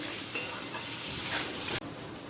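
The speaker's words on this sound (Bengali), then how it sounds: "মশলাটা আলুর সাথে কষানো হয়ে গেছে" Potatoes with ginger paste and spices sautéing in a pan for a papaya curry: a loud, close, continuous sizzle with stirring rustles that cuts off sharply near the end, leaving a softer hiss.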